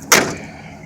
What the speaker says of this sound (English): trying to get the door open